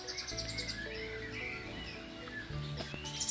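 An orange-headed thrush, a caged songbird, gives several short chirping calls over a quiet background with faint hum.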